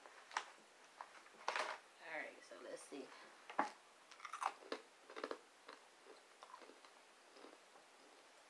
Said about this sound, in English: I like that crunch.